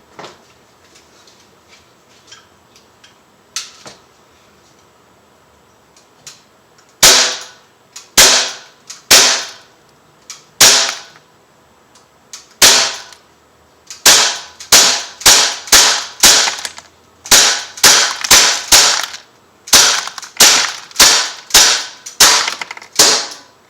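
An Umarex Beretta APX .177 caliber air pistol fires a string of sharp, loud cracking shots, first a few spaced apart and then a fast irregular volley of close reports, with quiet handling noise before the firing starts.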